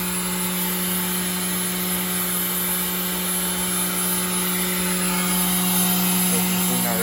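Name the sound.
parts washer running while cleaning oil pan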